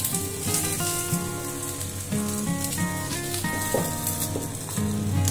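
Tilapia fish curry seasoned with turmeric frying and being stirred in a pan, a steady sizzle running throughout beneath prominent background music, with occasional scraping as the pieces are moved.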